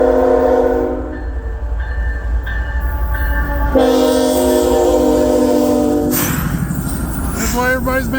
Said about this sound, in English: second Norfolk Southern heading westbound. Looks like this will be mixed freight as well.